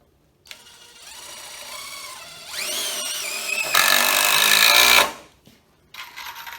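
Makita-style TID18 18V cordless impact driver driving a decking screw, whirring up then hammering loudly for a couple of seconds before stopping, followed by a brief second burst.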